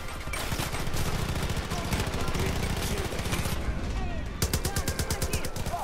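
Gunfire in Far Cry 5: loud, rapid automatic bursts rattle almost continuously, pause briefly, then resume in a fast regular stream, with no clear speech.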